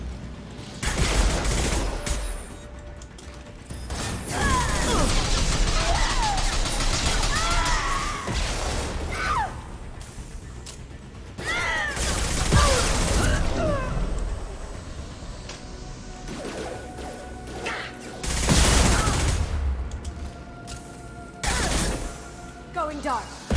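Rapid bursts of weapon fire and impacts from combat in the video game Mass Effect 2, sustained and dense with loud peaks, mixed with game voices and sound effects.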